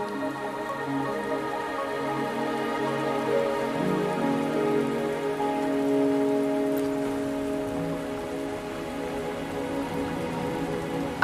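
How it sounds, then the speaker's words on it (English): Steady rain falls on surfaces in the Wuthering Waves video game, a continuous close patter with dripping drops and a faint game music tone underneath. "Are you trapped here by the rain?"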